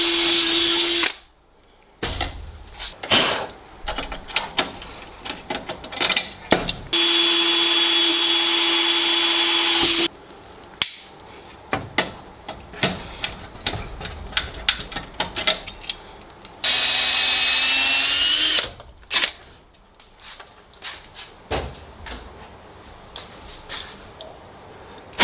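A power drill bores holes in the tail cone box of a Sonex aircraft fuselage, with many short, loud, close whirring bursts and pauses between them, plus several longer steady runs.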